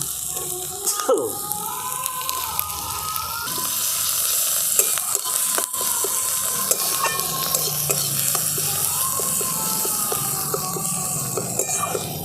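Ground spice paste hitting hot oil with browned onions in a pan for tel koi fish curry, a loud continuous sizzle and crackle with scraping stirs throughout, no voices heard.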